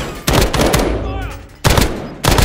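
Gunfire in the Call of Duty Modern Warfare Warzone battle royale video game, loud rapid bursts of shots in three separate volleys with brief gaps between them.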